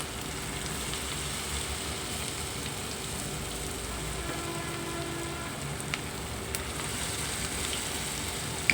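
Battered cauliflower pieces for crispy gobi 65 sizzle steadily in hot oil, a dense continuous crackling hiss with a few sharper pops near the end.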